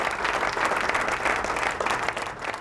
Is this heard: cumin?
no